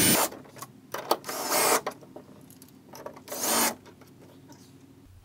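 A power driver turns bolts into a wall for a full-motion TV mount, giving short bursts of buzzing and grinding separated by pauses and scraping handling sounds, close and fairly loud.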